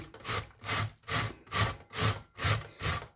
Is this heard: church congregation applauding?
no